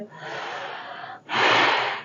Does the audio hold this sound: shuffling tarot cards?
no